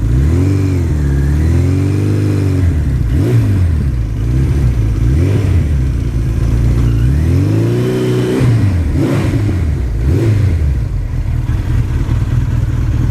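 Suzuki GS1100E motorcycle with a 1986 exhaust system revs close up, loud and alone, in a series of rising and falling throttle blips over a steady idle.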